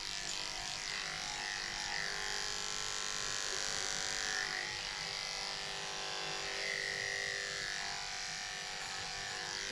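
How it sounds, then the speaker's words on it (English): Electric clippers buzz steadily and close up as they shave leg fur on a Bichon Frise during grooming, a continuous bright whine with slight changes in pitch as the blade moves through the coat. "shave off the top of the back of the elbow there for the same reason"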